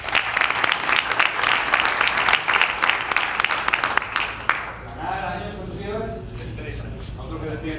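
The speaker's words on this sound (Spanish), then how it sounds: "así que un aplauso para él" A crowd at an American football team presentation in Oviedo applauds a junior team player with dense, loud clapping that fades after about five seconds into murmuring voices and a speaker talking.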